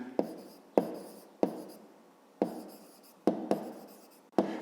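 Pen strokes on paper as a math exercise book answer is written by hand: short, close scratchy bursts, each starting with a sharp tap and trailing off, repeated about seven times with small pauses between.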